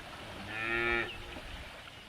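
A big Hereford cow by the Brazos River lets out a single loud, drawn-out moo lasting about half a second, heard alone over quiet outdoor background.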